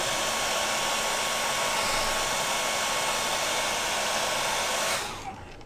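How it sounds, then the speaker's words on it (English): A hair dryer on low heat blowing steadily onto a model decal with a loud, constant whoosh, close by, then switching off near the end. "the hairdryer is not too hot"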